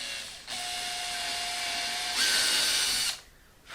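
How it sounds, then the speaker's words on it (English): A power drill running at slow speed reams a tuner hole in an HD-28 guitar headstock. It gives a steady close whir that rises in pitch partway through, then stops. "So I'm going to put the drill on 1, so it's a slow speed."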